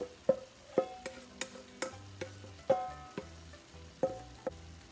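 Ground beef and zucchini fry together in a pan, with a soft sizzle under repeated sharp scrapes and taps of a spoon stirring at an uneven rhythm.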